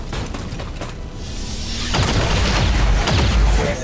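A soldier fires in XCOM 2, a loud close burst of shots with a heavy boom that swells midway and rumbles on in a dense low roar.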